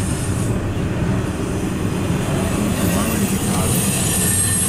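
A freight train rolls past at a rail crossing, a steady, loud rumble of wheels and cars with a faint high squeal on top, continuous without breaks.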